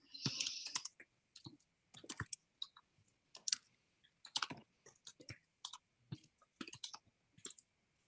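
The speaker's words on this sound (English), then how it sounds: "I've got to start typing." Someone types on a computer keyboard in a city council meeting room, giving irregular bursts of sharp clicks and key taps at close range, with short pauses between runs and no one speaking.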